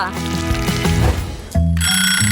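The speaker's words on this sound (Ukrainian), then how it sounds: "Ой, будильник спрацював." An alarm clock rings with a loud, steady electronic tone that cuts off briefly and resumes, over a kitchen scene with background music and voices.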